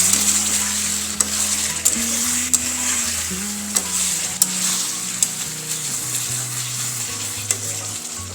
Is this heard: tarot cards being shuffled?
no